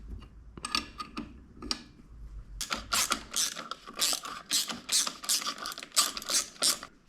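A wrench ratchets a 17 mm nut tight on a moped ignition during an MBK Stunt scooter rebuild, with a few spaced clicks followed by a rapid run of close, crisp ratcheting bursts.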